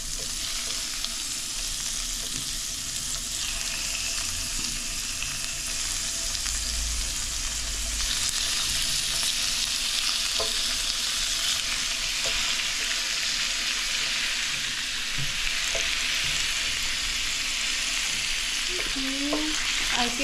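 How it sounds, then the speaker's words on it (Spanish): Beef and garlic for Peruvian lomo saltado sizzle hard in a hot pan, a loud continuous frying hiss with occasional scrapes and clinks of stirring, close up and without talk. "yo creo que ya le meto la carne, porque si no se va a quemar el ajo y no va a estar padre"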